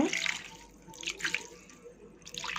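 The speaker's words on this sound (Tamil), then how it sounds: "தண்ணி கொஞ்சம் தேவையான தண்ணி ஊற்றிக்கங்க" Water poured into a mixer grinder jar while making appam batter, a soft splashing trickle that runs in short bursts for a couple of seconds, close by with no talking.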